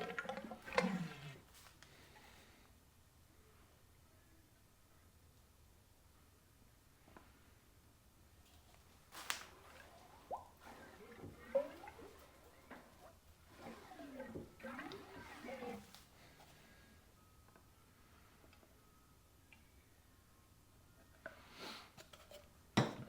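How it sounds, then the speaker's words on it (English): Oil inside a Harley front fork, fitted with Race Tech suspension parts, gurgles and sloshes in irregular bursts while the fork is cycled. Quiet, close and fairly faint, with short gaps of near silence and a few sharper clicks. "can hear it gurgling."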